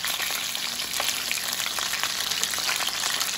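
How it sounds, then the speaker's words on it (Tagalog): Tulingan fish fries in a pan with a steady, dense sizzle and crackle, close and continuous with faint spattering pops throughout and no voices. "Antayin lang po natin na maprito."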